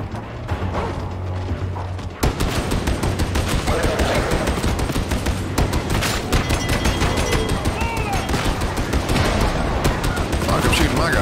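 Rapid, loud, continuous gunfire in Warhammer 40,000 Darktide sets in abruptly after a quieter opening and keeps a fast mechanical rattle, with some talk mixed in.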